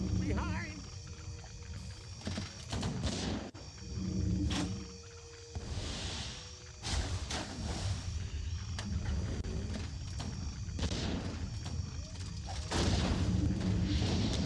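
Warcraft III mortar teams fire amid a busy battle, deep booms and impacts mixed with creature roars and combat noise, with a voice talking throughout.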